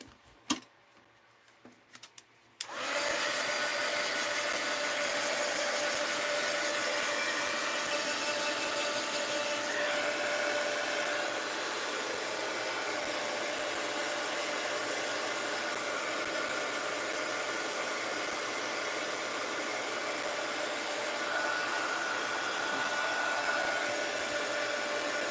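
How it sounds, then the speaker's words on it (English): A dryer blowing to dry paint on mixed-media mail art starts after a few quiet handling taps, then runs as a loud, steady whoosh for the rest, with nobody talking. "Let's go ahead and dry it."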